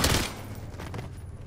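Gunfire in the video game Call of Duty: Warzone: a short, loud burst of several rapid shots at the start, trailing into a rumbling echo.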